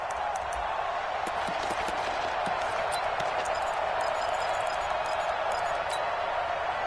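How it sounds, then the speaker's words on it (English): A football stadium crowd roars steadily as the home side holds on the opening drive, a dense, loud wash of cheering with scattered claps and shouts throughout. "And this crowd loves it as their guys hold on the opening drive."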